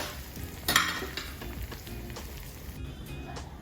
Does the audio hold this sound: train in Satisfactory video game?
no